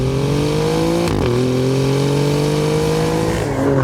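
A 2024 Alfa Romeo Giulia Quadrifoglio engine revs up with rising pitch, a brief gear-change dip around the middle, then climbs again, loud and close.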